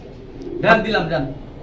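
One brief, throaty coo from a male Jabra Punky pigeon, close and mixed with a voice.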